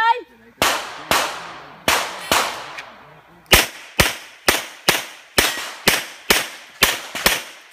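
Gunshots on a stage at a practical shooting competition in Honduras: about fourteen sharp, loud reports, a few spaced single shots and then a rapid steady string, each ringing out and decaying briefly.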